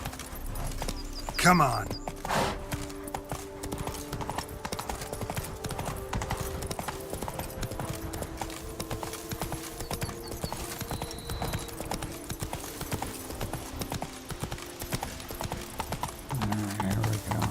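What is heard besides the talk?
horse Roach galloping hooves, from Witcher 3 video game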